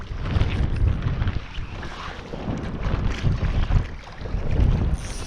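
Strong winter wind gusting across a lakeside during stillwater fly fishing, a loud continuous roar buffeting the microphone with rising and falling gusts and no talk.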